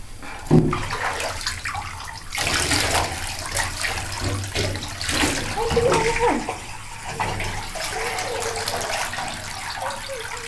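Water gushes and splashes from a tap while a husky is bathed, with a steady running stream, intermittent sloshing and a low voice speaking briefly near the start.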